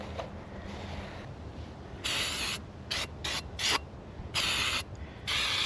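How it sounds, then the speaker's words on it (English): A can of degreaser sprayed onto grimy caravan wheel bearings, several short bursts of hissing spray, some long and some quick, close to the microphone over a quiet background. "start using your can of degreaser"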